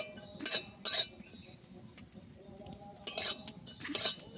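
Cumin seeds are stirred and fried in a pan for ghugni, with a metal spoon clinking and scraping against the pan in short bursts separated by a quiet, soft sizzle.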